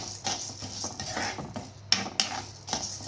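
Chana dal roasting in a pan under constant stirring, with a spoon scraping and rattling against the metal in a continuous rhythm and a couple of sharper clinks; no voices.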